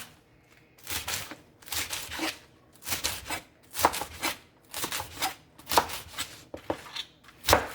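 Romaine lettuce being finely chopped with a knife on a board, a run of close, crisp bursts of rapid cuts separated by short pauses, with no talk.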